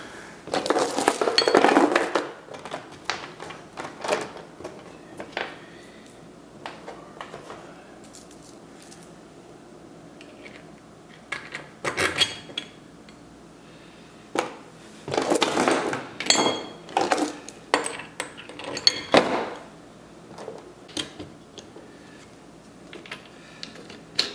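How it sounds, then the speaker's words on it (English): Steel chain being cut and handled while building a steel pistol target stand, giving bursts of metallic clinking and jangling links, several distinct clusters of rattles separated by quieter pauses, fairly close. "I got to cut some chain"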